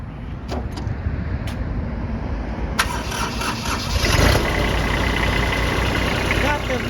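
A Kubota GB155 compact tractor's small engine cranks and starts, then settles into a steady mid-pitched running rumble with some clatter.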